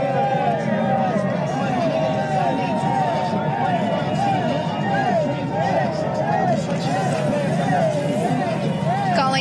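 Crowd at Nipsey Hussle's funeral procession, a loud, dense hubbub of cheering and chatter with a siren-like wailing tone and motor rumble running through it.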